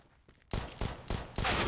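Pistol fire in Counter-Strike, four sharp loud shots in quick succession after a quiet lead-in, each with a short ringing tail.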